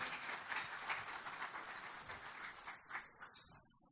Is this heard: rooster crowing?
no